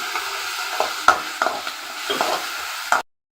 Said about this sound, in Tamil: நல்லா கோல்டன் ப்ரௌனாக வர வரைக்கும் வதக்கலாம் ஃப்ரெண்ட்ஸ்